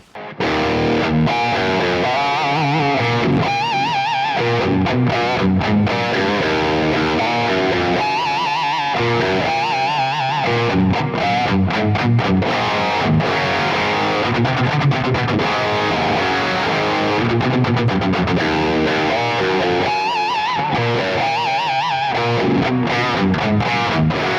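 A heavily distorted Kramer Nightswan electric guitar plays continuously with thick, driving chords and riffs, loud and close, with no talking.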